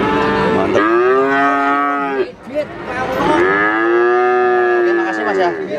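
Limousin cattle at the Magetan livestock market in East Java give two long, loud, close moos, each a drawn-out harmonic call, with a brief pause between them and no talk over them.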